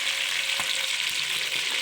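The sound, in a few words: onion added to hot oil, frying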